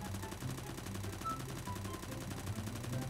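Rapid, continuous automatic-weapon gunfire from a CS:GO match with unlimited ammo, dense repeating shots at moderate-to-low level, with no talk over them.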